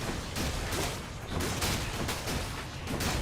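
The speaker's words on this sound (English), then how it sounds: "I'm standing in explosions." Explosions erupt in the video game Hades, dense bursts of booming blasts in quick succession, loud and close, with no talking over them.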